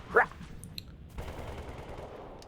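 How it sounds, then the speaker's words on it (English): Rapid ODST SMG gunfire from the video game Halo 3: ODST, fairly quiet, with a short sharp burst near the start followed by a steadier rattling stretch of automatic fire. "the ODST SMG is actually really good, as you can see"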